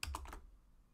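A quick keyboard shortcut, Control, Windows and Enter, pressed on a computer keyboard: three close, crisp key clicks in rapid succession, then quiet.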